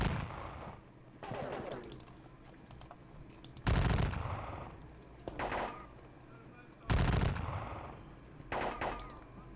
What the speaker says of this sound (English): Let's volley the guns.